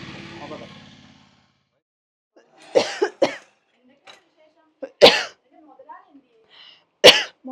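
A person coughs in several sharp, close bursts separated by pauses, with quiet gaps between each fit and a brief murmur at the start.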